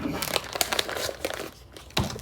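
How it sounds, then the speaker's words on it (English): A plastic bacon package is pulled open, giving close, loud crinkling and crackling in irregular bursts, with a brief quieter pause before a final sharp crinkle. "You're going to open your bacon, as so."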